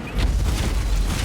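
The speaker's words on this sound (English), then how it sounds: "And these guys, they explode." Deep booming blasts of exploding enemies in Warhammer 40,000: Inquisitor roll through a dense, rumbling mix of low thuds and bursts, loud and close with no speech.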